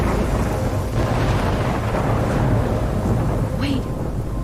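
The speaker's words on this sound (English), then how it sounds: "I'm trapped in a storm." Thunderstorm in the video game Life is Strange: a continuous low rumble of thunder with rain hiss, steady and loud throughout, with a brief whooshing swell near the end.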